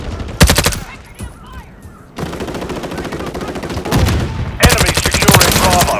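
Automatic and single gunfire from Call of Duty Modern Warfare III multiplayer, loud rapid bursts near the start and again at the end, with denser sustained shooting and battle noise through the middle.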